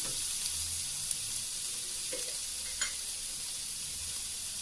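Onions sauté in a pan for a tomato curry with a soft, continuous sizzle. A few faint stirring scrapes and taps sit close by, and no one speaks.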